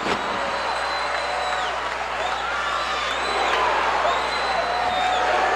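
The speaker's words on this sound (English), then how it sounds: "the crowd is enthusiastic about urging him" A 1983 Mid South Wrestling arena crowd keeps up a steady roar of cheering and shouting, loud and continuous throughout, with a commentator's voice riding over the noise.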